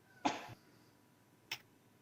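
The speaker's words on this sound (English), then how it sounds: "And now I'm coughing." A single sharp cough close to the microphone, followed a second later by a brief click in an otherwise quiet room.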